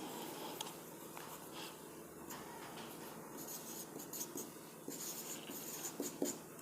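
Chalk or marker scratches and taps on a board during a Hindi-language class 12 physics lesson on Gauss's theorem, with short, irregular writing strokes close by and no talking.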